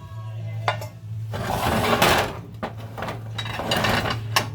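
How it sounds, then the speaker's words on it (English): A heavy cast iron frying pan is lifted and handled in a home kitchen, giving sharp metallic clanks and scraping knocks over a steady low hum, close by. "lifting this darn cast iron frying pan."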